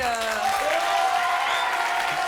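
A French television studio audience claps steadily for a couple of seconds, a dense, close wash of applause with voices talking over it.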